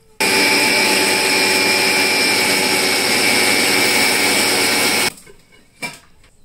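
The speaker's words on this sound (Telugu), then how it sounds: "కాస్త వాటర్తో మళ్ళీ గ్రైండ్ చేసుకోవాలి." A mixer grinder whirs loudly and steadily as it grinds rice paste with a little water, a continuous high motor drone lasting about five seconds before cutting off, followed by a short quieter rattle.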